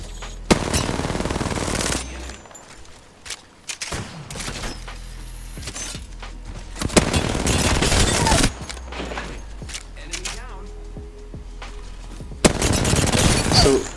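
Apex Legends gunfire: repeated bursts of automatic weapon fire, loud and close, arriving in several separated volleys with brief lulls between them and no talking.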